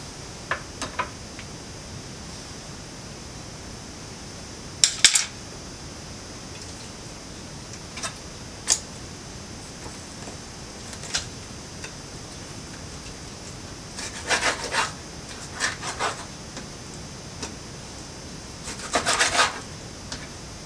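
Partially frozen meat is cut on a dish, heard as sparse, short scraping and rasping strokes, with a few clusters of close knife-on-dish sounds over a quiet background.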